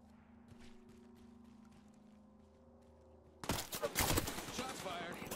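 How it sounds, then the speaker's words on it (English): Gunfire in Apex Legends breaks out after a quiet, humming lull as a sudden dense burst of rapid shots and impacts that stays loud to the end. "Shots fired."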